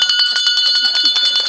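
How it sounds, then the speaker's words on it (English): A hand bell rung at a regional school committee meeting, a rapid bright clanging with ringing overtones, loud and close, while people talk over it. "you have to ring the bell."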